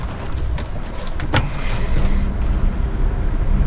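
A car drives along a road and turns around, with a steady, loud engine and road rumble throughout and a brief click partway in.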